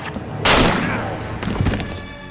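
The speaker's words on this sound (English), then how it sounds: "she pulls out a gun and shoots him" Gunshot from the film Catwoman, a woman firing a handgun at a man: one loud sharp blast with a short decaying tail, followed by a second fainter impact, heard amid film dialogue and soundtrack.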